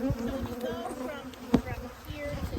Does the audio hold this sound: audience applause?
no